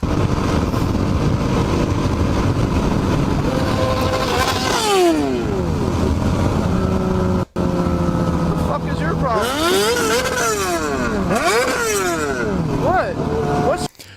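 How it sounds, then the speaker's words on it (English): A sport motorcycle's thin, tinny exhaust revs repeatedly through rising and falling pitch sweeps, loud and close, with talk over it. "Can we all agree that exhaust sounds like a tin can?"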